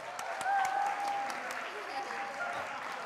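Audience applause fills a church hall at a young adults' service, a steady wash of clapping with murmuring voices mixed in.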